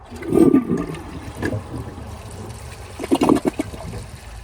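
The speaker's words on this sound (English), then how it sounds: "Let's give it a flush and see how it does on tests." A Glacier Bay high-efficiency toilet flushes, with a gurgling rush of water, a short lull, then a second burst of swirling and trickling, heard close and moderately loud.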